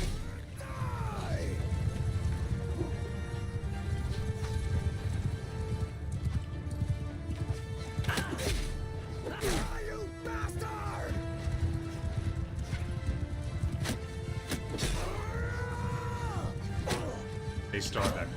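Horses gallop in a Mount & Blade 2 battle against horseback archers, a dense rolling clatter of hooves with scattered thuds, clashes and whinnies, while someone talks over the game sounds.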